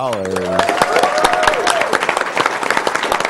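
Applause and cheering break out from the crowd at a live speedrun marathon event, dense clapping with a few vocal tones at the start, steady and fairly loud throughout.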